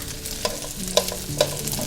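Rice cakes (tteok) being stirred in a frying pan with garlic honey fried chicken sauce, giving a few distinct scraping clinks of a utensil against the pan over a soft, steady sizzle, with no talking.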